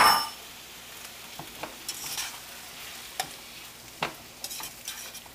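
Eggs hit a frying pan full of cooked vegetables, with a loud initial sizzle that settles into a softer hiss, broken by occasional sharp scrapes and pops of stirring.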